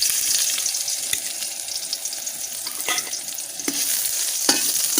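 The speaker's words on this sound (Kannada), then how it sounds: "ಒಣಮೆಣಸಿನಕಾಯಿನ ಹಾಕೊಂಡು ಫ್ರೈ ಮಾಡ್ತಿದ್ದೇನೆ ಈರುಳ್ಳಿ ಇದಕ್ಕೆ ಹಾಕಿರ್ತಿದ್ದೇನೆ" Dried red chilies and onion fry in a pan for sesame chutney, a dense, close sizzle with bursts of stirring and scraping throughout, no talking.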